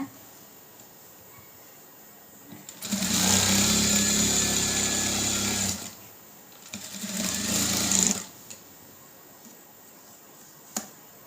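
A sewing machine stitches the lining of a tailored blouse in two loud, steady motor bursts, the first about three seconds long and the second shorter, with quiet gaps on either side.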